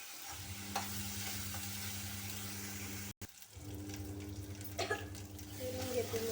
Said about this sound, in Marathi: फिरवून घेते जोपर्यंत मसाल्याला तेल नाही सुटत तोपर्यंत ते शिजवायचं